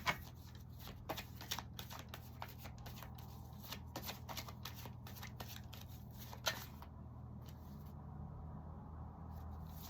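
Oracle cards being shuffled by hand, a soft papery riffling with light crisp taps, close and quiet, repeating steadily over a low background hum before fading out.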